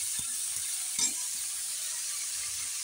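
Pumpkin leaves frying in hot oil with garlic, a steady close hiss of sizzling with a few soft knocks of stirring and no talking.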